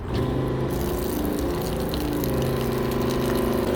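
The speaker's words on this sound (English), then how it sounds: "next, you're going to take your wand, you're going to flush it out." A softwash system pump runs steadily as the wand is flushed with antifreeze during winterizing, giving a loud, continuous motorized hum with gushing liquid and no speech.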